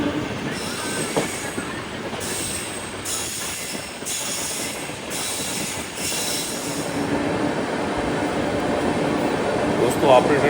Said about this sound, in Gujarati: આપણી ટ્રેન અત્યારે મણિનગર સ્ટેશનને ક્રોસ કરી રહી છે